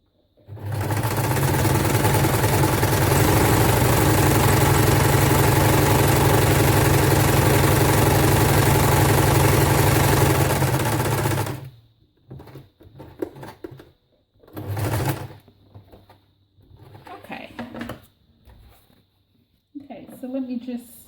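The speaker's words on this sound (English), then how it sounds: "Oh, little sewing machine, he's so angry today." Small domestic sewing machine stitching fabric for floral envelopes, a loud steady mechanical whir for about eleven seconds, then stopping, followed by scattered clicks and handling noises.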